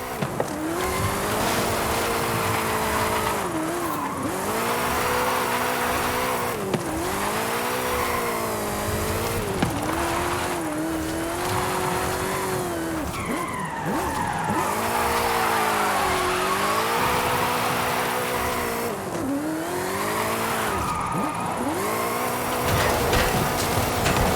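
Drifting car in Forza Horizon 5, its engine revving hard in repeated rising and falling sweeps while the tyres squeal continuously through each slide, loud and close with no talking.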